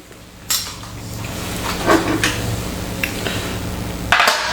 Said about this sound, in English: I'm gonna take this bowl here